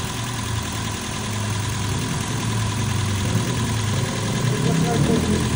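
The engine of a Toyota Vios, just started after cleaning out thick oil sludge, idles with a steady, close mechanical hum and a low throb, and someone talks over it.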